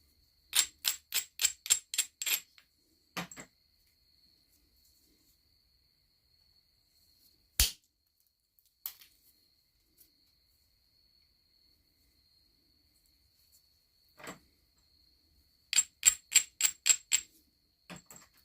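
Sharp, dry clicking of flint flakes from knapping in quick bursts of six or seven strikes, with a few scattered single ticks between them, close and crisp against near silence.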